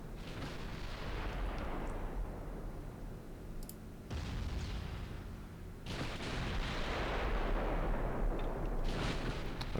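Battleship guns fire high-explosive shells in Ultimate Admiral Dreadnoughts: several heavy booming salvos, each a sudden broadband blast that rumbles on, with a continuous low roar filling the gaps between them.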